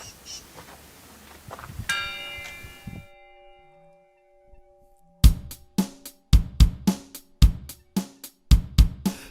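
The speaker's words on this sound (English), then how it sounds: "Church bell rings at the top of the hill." A hilltop church bell rings with sustained tonal strikes and a lingering hum, followed by a run of sharp, evenly spaced metallic clangs, fairly close and loud.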